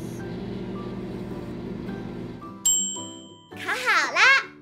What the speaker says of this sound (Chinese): 再打开微波炉，来烤一个蛋糕。